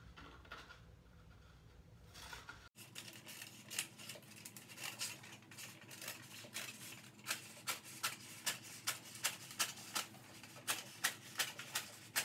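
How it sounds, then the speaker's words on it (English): Material cut along a line beside a window with scissors: a quiet, close, regular series of snipping clicks that grows steadier after a brief pause, faint overall. "So I'm going to cut this along this line here."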